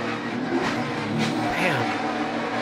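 A NASCAR race car recorded onboard roars loudly as the driver lifts off the throttle while losing grip, the engine note falling and shifting in pitch under heavy wind and road noise.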